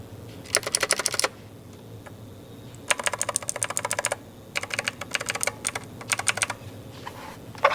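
Bursts of rapid clicky keystrokes come from a Razer BlackWidow V3 TKL mechanical gaming keyboard, typed in several separate runs with short pauses between them, close up with no talking.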